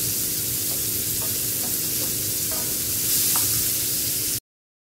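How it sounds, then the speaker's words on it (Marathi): Onions frying in a pan with cardamom and asafoetida, a steady broadband sizzle running throughout with a few faint clinks of stirring, close and fairly loud, no voices, cutting off abruptly near the end. "आपल्याला कांदा लाल होईपर्यंत भाजून घ्यायचा आहे"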